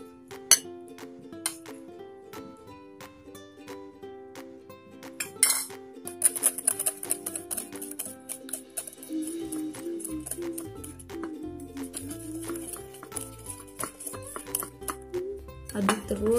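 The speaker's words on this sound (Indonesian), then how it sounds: "Aduk terus sampai rata, sampai semuanya selesai, sampai semuanya masuk." Brownie batter with flour being stirred in a bowl for a rice-cooker recipe, with clinking utensil taps against the bowl that become a steadier, busier scraping and stirring rhythm, close and moderately loud, under faint talk.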